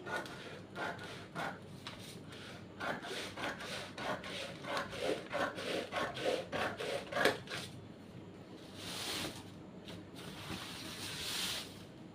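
Scissors cutting a paper pattern for a Bombay-cut blouse, a close series of rasping, crisp snips in steady runs that pause briefly, then a softer rustle of paper being handled, with no talking.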